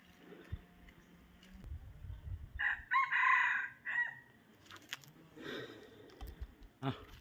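A wild junglefowl crows once in the forest, a clear mid-distance call in the middle of a quiet stretch, surrounded by scattered clicks, rustling and handling noise.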